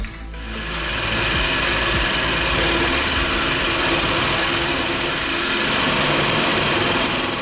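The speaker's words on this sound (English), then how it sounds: "I don't know if I've cut material this thick with the jigsaw before" A jigsaw with a fresh blade saws through thick material while working on a manual C8 Corvette drift car. The rapid reciprocating buzz is loud and close, holding steady and unbroken for several seconds.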